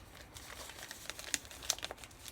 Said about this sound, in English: Now you take it and you put it in this envelope